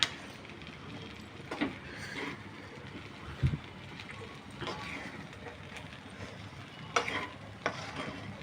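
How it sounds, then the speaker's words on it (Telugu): Rice with turmeric being stirred in a frying pan for Karnataka-style menthi rice: soft scraping strokes recur every second or two over a faint sizzle, with one sharper knock midway, all fairly quiet and without talk. "పసుపు కూడా వేసుకొని బాగా కలబెట్టుకుందాం."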